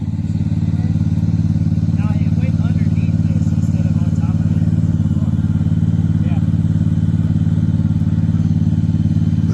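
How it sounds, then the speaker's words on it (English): A roll former machine rolls out 24 gauge steel standing seam roofing on a home addition site, a loud steady droning hum with faint clatter throughout, while a voice talks over it. "That is the machine that rolls out the steel for the roof."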